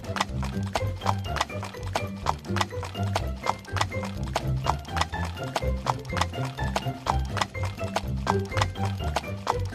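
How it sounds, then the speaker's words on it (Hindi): A horse pulls a cart along a forest road, its hooves clip-clopping in a steady, continuous rhythm that is close and clear throughout. "ध्रुव अपने घोड़े गाड़ी में चढ़कर उस गांव में जाने के लिए निकलता है।"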